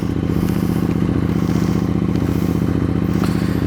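Motorcycles riding a mountain road near Nanga Parbat in Pakistan, a steady close engine drone with continuous rumble and some rattling clatter, no talking.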